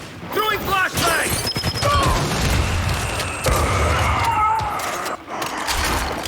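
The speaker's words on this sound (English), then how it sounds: "Throwing flashbang!" A flashbang grenade going off in a competitive Gears of War esports match, with booms and mechanical clatter amid loud game action and an excited commentator talking over it.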